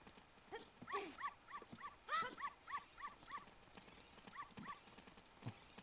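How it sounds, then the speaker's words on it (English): Dogs in the Zelda: Ocarina of Time video game bark in a quick run of repeated yaps, several bursts in close succession, moderately loud over a busy game soundtrack with brief talk in places. "Fuck these stupid dogs."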